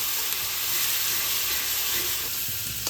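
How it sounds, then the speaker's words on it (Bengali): Onion gravy made from two medium onions fries in a pan for a Bengali fish curry, giving a steady, close, broadband sizzle that continues evenly throughout with no talking. "পেঁয়াজটা একটু ভাজা ভাজা করে নিতে হবে।"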